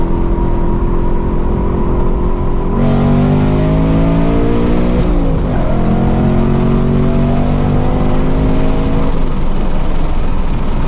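A powerful supercharged 2024 Ford Mustang engine with a ProCharger roars at high volume on a dyno, revving up in rising sweeps and holding a hard pull, with no voices.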